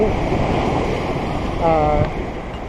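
Sea surf washing onto the shore at Kalim beach near Patong, Phuket, where rocks line the water's edge; a steady broadband wash with wind noise runs throughout, and a brief tonal hum rises midway.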